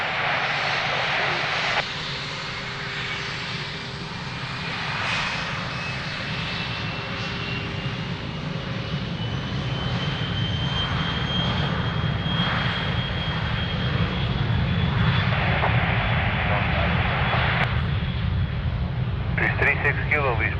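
An airliner rolls for takeoff on runway 02 at Lisbon Airport, its engines building a loud, sustained roar with a rising whine, while tower radio chatter runs faintly underneath.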